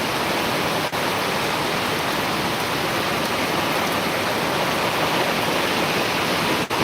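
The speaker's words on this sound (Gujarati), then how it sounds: "સુરતમાં ખૂબ વરસાદ આવી રહ્યો છે અત્યારે" Heavy rain pours onto an office rooftop terrace in Surat, a loud, dense and unbroken roar with no talking.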